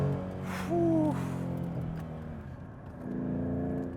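A 3.7-litre V6 Ford Mustang climbs a mountain road, its engine note rising in pitch, dropping at each upshift through second, third and fourth, then building again, close and fairly loud with no talk.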